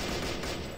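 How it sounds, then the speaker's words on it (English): Distant gunfire in the video game Madness: Project Nexus, a brief dense burst of shots blurred into a steady crackling roar lasting under a second. "Little bit of some bullets from a distance."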